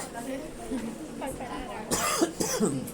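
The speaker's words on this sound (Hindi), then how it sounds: "खांसी हो गई।" A couple of sharp coughs ring out close by amid background voices and room chatter.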